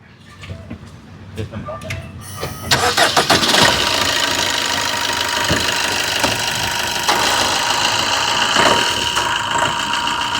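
A 2018-2019 Maruti Swift Dzire diesel car engine cranks and catches, then settles into a loud, steady idling rumble with a slight knocking quality, with a voice speaking over it.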